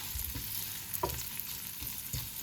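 Butter and sliced sausage fry in a pan, a faint sizzle with a few soft knocks of a utensil against the pan, brief and quiet.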